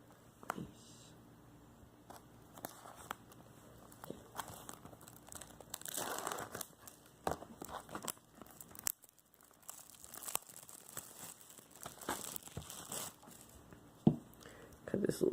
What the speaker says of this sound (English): Cut this little seal here.